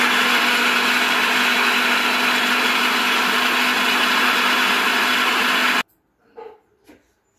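A mixer grinder roars loudly and steadily while grinding onions into paste, then cuts off abruptly, followed by a couple of soft knocks.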